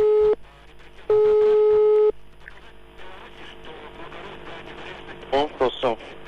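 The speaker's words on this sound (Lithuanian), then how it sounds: "Lukui skambino, jau sujungtas." Loud steady telephone tones sound in two blocks while a call is being connected during a radio phone prank. A burst of lighter beeps follows near the end, with faint background sound in between.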